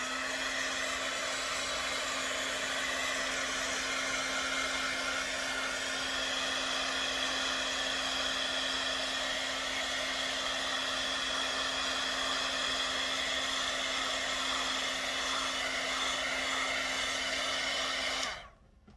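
A hair dryer blows on a mixed media bookmark with a constant steady whir for about eighteen seconds, close and fairly loud, then cuts off at the end.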